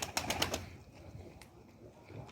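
A kara çakmaklı pigeon, a male of this Turkish breed, gives a quick burst of fluttering and cooing sounds at the start, close by, followed by near quiet.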